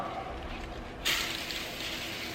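A garden hose rinses a car tire and wheel during detailing; steady water spray starts suddenly partway through and keeps hissing over a low background.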